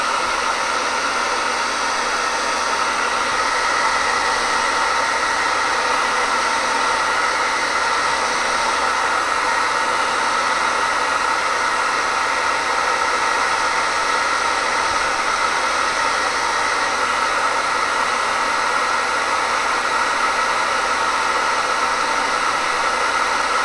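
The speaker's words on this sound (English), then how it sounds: "Let me hit that with the hair dryer." A hair dryer blows steadily at full power, a constant airy roar with a faint whine, running without pause and with no talking.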